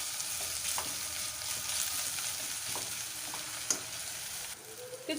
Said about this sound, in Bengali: ভালো করে একসঙ্গে সব পেঁয়াজগুলো কষিয়ে নেব